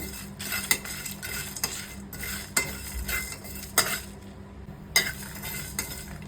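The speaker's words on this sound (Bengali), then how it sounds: "তো এগুলো আমি ফ্রাই করে নেব। জাস্ট হালকা একটা ফ্রাই করব।" Whole cardamom, cloves, black cardamom and cinnamon are lightly fried in a pan, with a soft steady sizzle broken by several sharp clinks of a utensil scraping and stirring against the metal.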